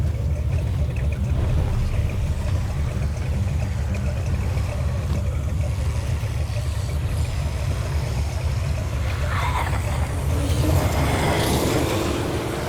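Truck engine droning steadily in The Walking Dead: A New Frontier, a continuous low rumble that holds level for the whole stretch with some rising hiss near the end.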